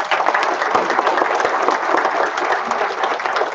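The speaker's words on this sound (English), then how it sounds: "So give yourselves a round of applause." Applause from an audience of state agency workers during a governor's visit, a dense, steady wash of many hands clapping at moderate distance, continuing evenly throughout without breaks.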